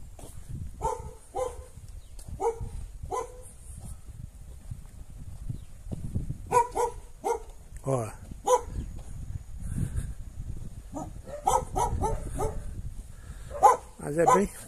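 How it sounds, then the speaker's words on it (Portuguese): Two dogs bark at a rural country house surrounded by a veranda, in repeated short bursts and clusters of barks, somewhat distant, with a person talking nearby over soft outdoor background noise. "Tem dois cachorros, não vou me aproximar não ali"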